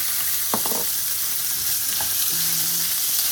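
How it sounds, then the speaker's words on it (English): Lamb mince sizzles loudly in a hot pan, a constant crackling hiss with a couple of brief scrapes from stirring, and a short tonal clink near the end. "I'm gonna put my mince in there and fry it"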